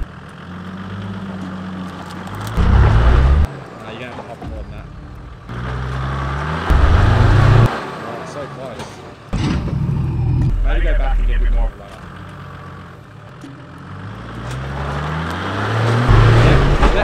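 A 4WD Nissan Patrol or Landcruiser crawls over a rock on an off-road track, its engine droning and surging in repeated low revving bursts as it hops and rolls back, with people talking throughout.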